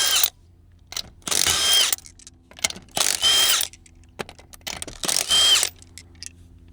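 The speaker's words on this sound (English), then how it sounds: "since we have an impact, we're just going to take them off now" A pneumatic impact wrench spins lug nuts off a Can-Am Commander wheel, three loud close bursts of rattling hammering, each about half a second long, with quiet gaps and small clinks between them.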